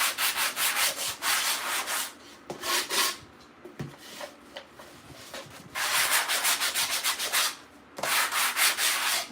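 Wood is hand-sanded in bursts of quick back-and-forth rasping strokes, close and fairly loud, with short pauses between rounds.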